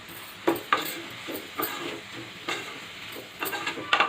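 Spices being stirred into a dried prawn and cucumber curry in a hot pan: intermittent scraping stir strokes over a soft, low sizzle, close and fairly quiet.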